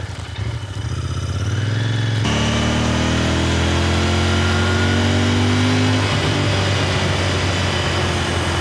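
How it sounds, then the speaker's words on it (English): A stock Royal Enfield Interceptor 650 with its air-cooled 650cc parallel twin pulls a rider uphill toward a volcano summit, the engine droning loud and steady throughout, with a rise in pitch partway as it gathers speed. "Powering us along is a 650cc air-cooled twin, and this is, I'm pretty sure, completely stock."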